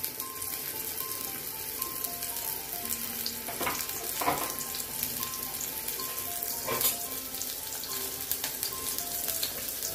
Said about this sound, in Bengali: পেঁয়াজটাকে নেড়ে চেড়ে একটু ভেজে নেব